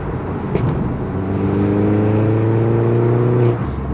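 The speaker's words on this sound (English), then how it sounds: "that turbo is just whistling through the exhaust now" R56 JCW Mini with a loud decat exhaust and AEM induction kit, holding a steady droning engine note with layered harmonics for about three seconds, a faint turbo whistle riding on top, close and fairly loud.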